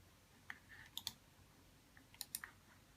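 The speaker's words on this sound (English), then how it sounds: "Sorry for the clicking." Rainbow Loom bands click against plastic pegs in faint, sharp ticks, a few scattered single and double snaps spaced out over a quiet background.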